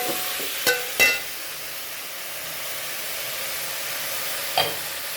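Tomatoes sautéing in a pan for Tamil tomato kuzhambu give a steady soft sizzle and hiss, broken by a few sharp clinks of a spoon against the pan, with no talk.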